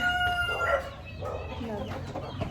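Chickens cluck and call close by, with a rooster-like crow rising among them and some faint background noise.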